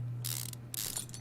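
A brake caliper being screwed back on in Car Mechanic Simulator 2015, two quick ratcheting bursts from a wrench over a low steady hum, close but quiet.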